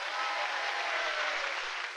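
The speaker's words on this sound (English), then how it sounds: "A little round of applause for Graham." Audience applause for a pianist at a comedy-music show, a dense steady wash of clapping for two seconds, fading slightly at the end, with no talk.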